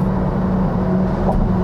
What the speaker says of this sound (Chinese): 你听一下旁边那个大货车的声音